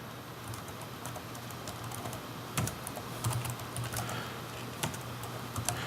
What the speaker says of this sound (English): I'm just typing in the command so you can see this.